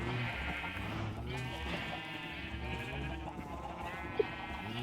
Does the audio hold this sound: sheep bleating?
yes